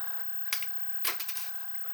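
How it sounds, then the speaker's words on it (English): Plastic dart guides on a Nerf Elite 2.0 Turbine blaster snipped off with a hand clipper, giving a few sharp, close clicks and snaps in a quiet room. "So I'm going to take my clipper and just cut those out"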